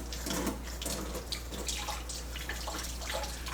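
Water bleeds steadily from an opened test cock on a backflow preventer during testing, a continuous hissing, splashing flow close by with no talking.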